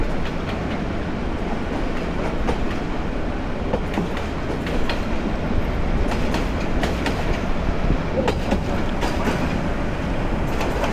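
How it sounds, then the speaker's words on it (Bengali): Chattogram University shuttle train rounding a right-hand curve onto the Cox's Bazar line, with a continuous loud rumble and rhythmic clickety-clack of wheels heard close up from aboard and faint wheel squeal. "ট্রেন কার্ভ নিয়ে ডান দিকে আমরা কক্সবাজার লাইনের দিকে ঢুকছি আর কি।"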